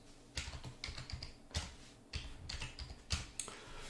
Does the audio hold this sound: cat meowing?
no